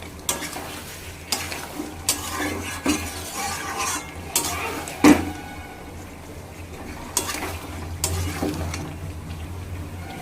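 Chicken being stir-fried (kosha) in oily pan with a steady sizzle, scraped and stirred by a utensil with repeated clanks and knocks against the pan, no talking.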